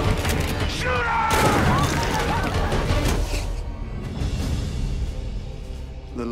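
Gunfire erupts in a dense burst of booms and crashes in the trailer for the 2010 film Legion, loud and layered with score and voices, easing slightly toward the end.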